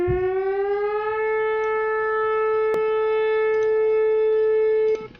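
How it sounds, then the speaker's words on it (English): A loud, steady tornado siren tone in a Roblox game holds one pitch, rising briefly at the start, then cutting off near the end, with a sharp click midway. "Let me just test the sirens"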